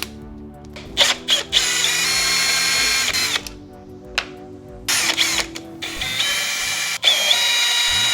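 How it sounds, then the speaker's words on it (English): Several short bursts from a cordless power driver with a T25 Torx bit backing screws out of the cover of a Stihl MS440 chainsaw, each whirring spin stopping and starting, close up with no talking. "I'm just gonna use a T25 Torx bit and take all this off."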